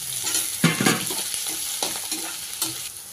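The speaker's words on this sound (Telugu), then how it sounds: "దాని తర్వాత ఆనియన్స్ కరివేపాకు వేసి చక్కగా ఫ్రై అయ్యేదాకా కలుపుతుండాలి" Onions, curry leaves and garlic frying in a pan for a bendakaya curry, a bright sizzle broken by several loud scrapes and clatters of a spoon stirring close by.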